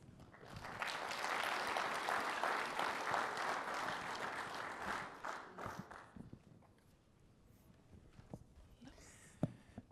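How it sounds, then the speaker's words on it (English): An audience at a conference session applauds to welcome speakers onto the stage, a broad wash of clapping for about six seconds that then fades to scattered claps and quiet room noise. "please welcome with a hand of applause, Sinahi Lopez and John Bowden on stage"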